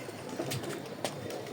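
Fancy pigeons coo softly while being fed, a few low, faint calls over a steady background hiss.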